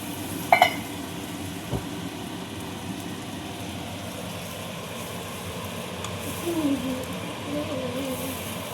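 Onions cook in a pan for fish molly with a quiet, steady sizzle and hiss. A couple of short clinks sound near the start, and a faint bubbling stir follows later.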